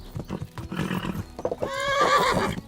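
An unhappy horse in a video game whinnies once, loud and close, after a stretch of hoof clip-clop and shuffling.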